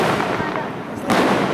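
Fourth of July fireworks bursting outdoors, a steady crackling din with a sharper loud burst near the end, voices murmuring underneath.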